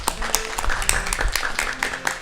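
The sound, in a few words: audience applause for the accordion player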